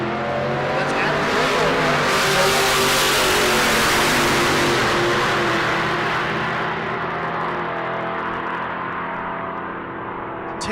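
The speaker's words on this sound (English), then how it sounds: "the Falcon, big block Chevrolet, blower, dual quads" A drag-racing Ford Falcon with a supercharged big-block Chevrolet engine and dual quads launches down the strip. Its engine is a loud, close roar that builds over the first few seconds, then gradually fades as the car pulls away.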